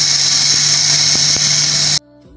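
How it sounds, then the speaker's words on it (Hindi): An electric kitchen grinder coarsely grinding ginger, curry leaves, kalonji and fenugreek, running as a loud, steady high-pitched whine with a few rattling knocks, then cutting off abruptly near the end. "ये तमाम पावरफुल इंग्रेडिएंट्स में एक ग्राइंडर में डालूंगी और इसको पीस लूंगी"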